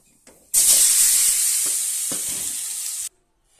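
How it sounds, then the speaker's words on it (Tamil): Potatoes frying in hot oil seasoned with chili powder, where a loud, bright hiss of sizzling bursts in suddenly, holds steady for a couple of seconds, then cuts off abruptly. "உருளைக்கிழங்கு மொறுன்னு பொரிச்சு வச்சுட்டேன்"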